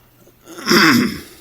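A person clears their throat once in a short, harsh rasp, close and isolated, while getting over a cough.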